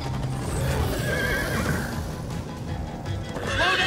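Horses neigh and whinny in a Minecraft: Story Mode game scene, several loud calls over a steady bed of hoofbeats and game ambience, with a final whinny rising near the end.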